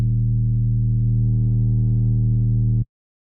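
A synthesized deathstep bass drone, low-pass filtered at around 600 Hz to strip its highs, holds a dense, steady low tone for nearly three seconds and then cuts off abruptly into silence.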